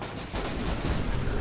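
Enemy gunfire rattles in the video game Destiny 2 during a Lost Sector run, a short, loud, dense burst of overlapping shots and booms with no talk.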